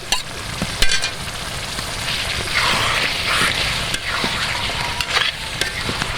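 Pieces of beef head skin stir-fried with spices in a pan, a loud, close, bubbling sizzle that swells in the middle, with sharp spatula clacks against the pan throughout.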